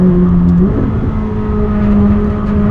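A loud sports car engine revs and drones steadily, its pitch shifting as it climbs through the gears, close up with no talking.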